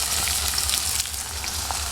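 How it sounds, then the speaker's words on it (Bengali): Chopped onion sizzling in hot mustard oil in a home kitchen pan, a steady close crackling fry with a bright hissing texture and no talk. "তেলটা দেখো গরম হয়ে গেছে, দিয়ে দিলাম পেঁয়াজ।"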